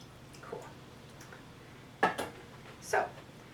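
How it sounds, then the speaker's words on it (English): Metal lid set back onto a dye pot holding alum mordant water, two short clanking contacts about a second apart over a quiet steady background hum. "just going to put the lid back on the pot for a second there."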